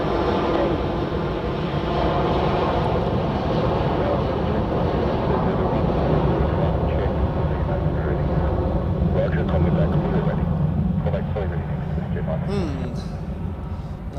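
An Icelandair airliner's engines roar on the runway at Zurich Airport, a broad, steady drone that holds loud for the whole stretch before easing slightly near the end.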